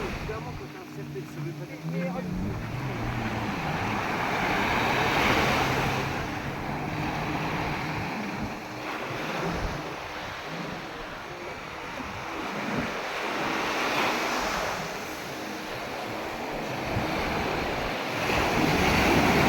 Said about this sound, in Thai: คลื่นแบบนี้น่าเล่นมากเลยนะ ใครชอบคลื่นทะเลแบบนี้ก็มาไ ด้เลยตอนนี้คลื่นสวย